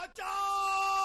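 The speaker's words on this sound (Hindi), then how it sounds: "अरे ये तो जोजो के चीखने की आवाज है बॉस।" A loud, sustained scream from a cartoon character in a Hindi-dubbed animated episode rises sharply after a brief catch and holds steady, close and piercing.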